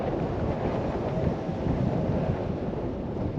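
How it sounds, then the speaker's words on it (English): Strong wind gusts across the exposed top of East Mill Tor on Dartmoor, a dense continuous low roar buffeting the microphone with no voices. "I think we may have to pitch over behind there because it's windy up here."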